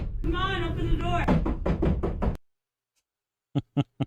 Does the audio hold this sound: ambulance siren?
no